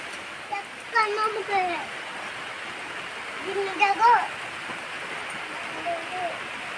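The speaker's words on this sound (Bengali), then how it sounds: "ওই যে বৃষ্টি পড়তে শুরু করেছে।" Rain falls outside as a soft, steady hiss that runs the whole time, while a few short bursts of talk sound closer over it.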